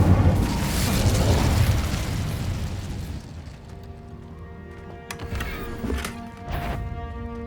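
A fire spell, Incendio, is cast in the Hogwarts Legacy video game, giving a loud roaring burst of flame at the start that fades into a softer rumble, followed by a few sharp magical pops and chimes.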